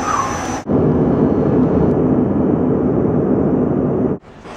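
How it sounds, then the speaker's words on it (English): A fixed-wing airplane passes directly overhead, a loud, continuous close roar of engine and rushing air that holds steady for several seconds and then cuts off abruptly. "there's the plane. Right above there."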